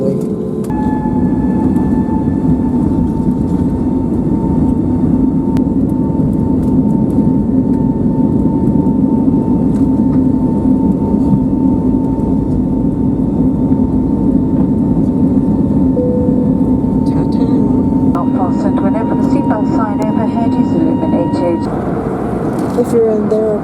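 SAS passenger jet engines drone steadily from inside the cabin while the plane moves out toward the runway, a loud continuous hum with a sustained tonal whine and a few clunks near the end.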